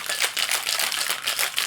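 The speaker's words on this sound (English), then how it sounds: "we're going to shake this up until like it's never been shaken before" Cocktail shaker full of ice, shaken hard while mixing a Pegu Club: loud, rapid, rhythmic rattling bursts of ice against the tin, continuous and close, with no talking.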